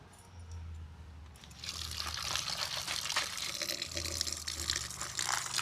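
Raw chicken pieces are rinsed in water, with a soft stream pouring and splashing that swells after a quiet first second and keeps running steadily, close and fairly faint.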